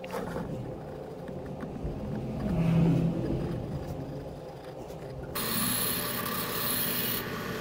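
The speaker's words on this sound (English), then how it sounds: "Using the sander, I shape the piece" Sander shaping a wooden scalpel piece, a continuous close rasping rub with a low rumbling motor underneath, shifting in intensity as the piece is moved and pressed.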